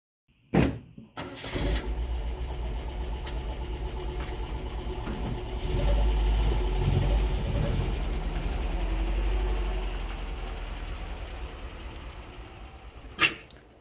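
A 1972 MGB car engine starts with a sharp burst, then runs steadily with a low rumble for several seconds before a brief clunk near the end.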